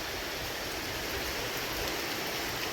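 Continuous, even rain hiss, fairly close and steady throughout, with no voices or other distinct sounds.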